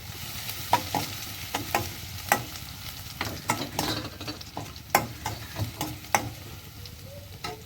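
Curry leaves fry in sesame oil in a pan, with a low sizzle under frequent loud spoon scrapes and clanks in an uneven rhythm, close up and without talking.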